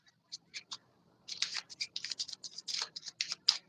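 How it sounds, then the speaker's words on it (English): A deck of playing cards is shuffled at close range, giving a series of crisp riffling and snapping bursts, sparse at first and then quicker and denser. "we're gonna go ahead and take the rest of the cards, shuffle them up"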